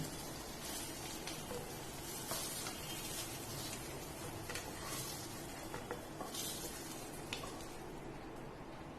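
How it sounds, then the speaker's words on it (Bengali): Pointed gourd (potol) frying and being turned over in a pan, a steady dense sizzle with light crackles running throughout, close and fairly loud, with no talking. "এইভাবে উল্টে পাল্টে একটু ভাজবো"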